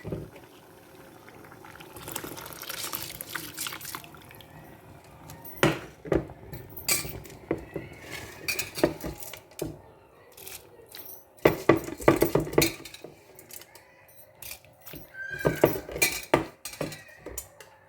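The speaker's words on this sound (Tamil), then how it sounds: "அப்போ நாங்கள் இதுக்குள்ளே அரிசியாக போடுவோம்" Metal utensils clink and scrape against a pot at close range as rice is added to boiling water and stirred for Sri Lankan milk rice porridge, with soft bubbling in between, intermittent and fairly quiet.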